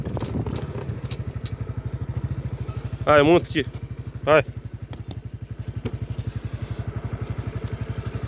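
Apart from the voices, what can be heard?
motorcycle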